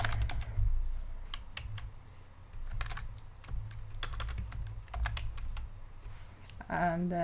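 Quick bursts of typing on a computer keyboard while entering account details, close and fairly quiet, with irregular clusters of key clicks and short pauses, and a voice starting to speak near the end.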